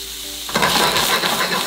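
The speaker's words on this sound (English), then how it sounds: "that's sauteing. So that is the ingredients hitting the hot oil and it's cooking it quickly" Onions and peppers drop into hot oil and a sudden loud, steady sizzle bursts in after a quiet moment, continuing as the ingredients sauté quickly in the pan.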